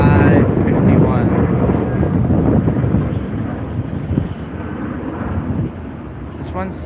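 China Airlines airliner on flight CI51 passing as a steady, loud broadband roar of jet engines mixed with wind buffeting, continuous for the whole stretch before easing slightly near the end.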